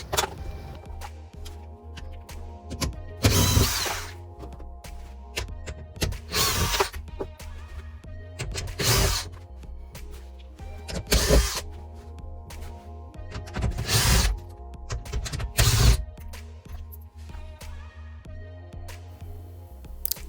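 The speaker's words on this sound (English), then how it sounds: "Here I'm using a drill to remove the bolts faster." A power drill backing out 10mm bolts from a Toyota Sequoia door, sounding in repeated loud bursts of whirring with ratcheting clicks between them, close up and without talk.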